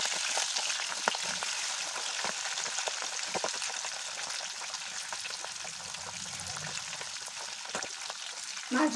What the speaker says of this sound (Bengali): মাছগুলো খুব একটা কড়া করে ভাজবো না